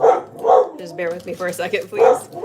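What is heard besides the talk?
dog barking at noise outside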